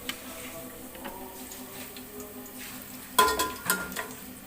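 Onion and whole spices such as cinnamon and cloves fry in oil for biryani, a soft low sizzle with light ticking, then a burst of louder stirring and clattering in the pan toward the end.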